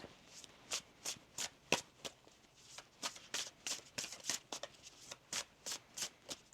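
Tarot cards are shuffled by hand at close range in a quick run of about a dozen crisp riffling bursts, evenly spaced and soft, with no speech over them.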